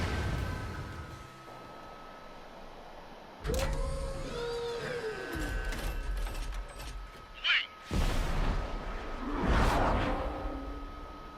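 UAVs launching in Ace Combat 7 during a mission: a steady mechanical hum, then whirring launch mechanisms, rising whines and sharp whooshing bursts as each drone departs, fairly loud and close.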